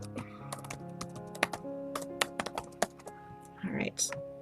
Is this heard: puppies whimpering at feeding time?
no